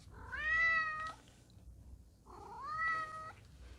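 A cat meows twice, close and clear, two drawn-out tonal cries about two seconds apart in a quiet kitchen.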